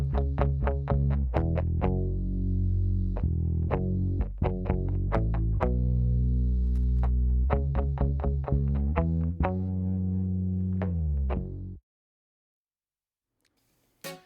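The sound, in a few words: bass and electric guitar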